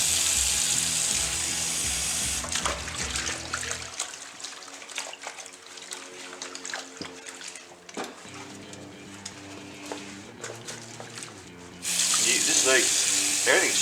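Warm water runs steadily from a kitchen tap into a sink while a non-stick BBQ mat is washed, a continuous close splashing rush with wiping and handling noises through the middle.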